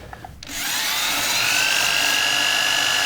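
A power drill bores into a wooden tabletop, starting after a brief pause with a steady, loud, rising whine that holds continuously to the end, close by with no talking.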